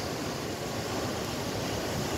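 Rough surf on Quỳnh Phương beach in Hoàng Mai, Nghệ An, ahead of an approaching storm: a loud, unbroken roar of breaking sea waves mixed with wind buffeting, with no pauses.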